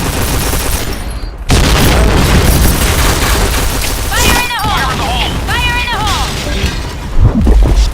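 Grenade blast in a first-person shooter: loud, dense booming and gunfire with a sudden heavy burst, rattling continuously, while people talk over the game audio.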